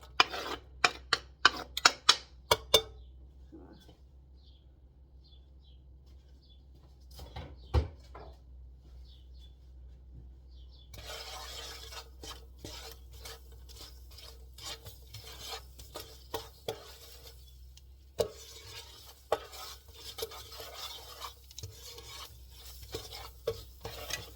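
Onions tipped into a pan for a lamb and apple casserole, with a burst of clattering knocks at first, then a quieter pause, and later a sustained crackling sizzle with scraping stirs, no speech.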